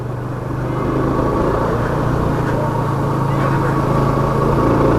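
A motorcycle engine drones steadily while the bike is ridden through a crowd and run up through the gears, a loud, close, continuous rumble with slight rises in pitch and no clear pauses.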